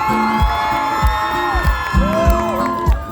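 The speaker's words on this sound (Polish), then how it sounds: "zróbcie dla niego wielkie, wielkie brawa" A concert crowd at a Barbórka miners' festival show in Zabrze cheers and whoops over a band's music, with sustained voices ringing across a steady thumping beat, loud and continuous throughout.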